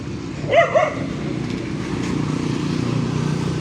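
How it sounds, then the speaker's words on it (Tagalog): Dogs barking in a street after a strong earthquake, a short cluster of barks early on, then steady traffic and street noise continuing underneath. "Ang daming aso."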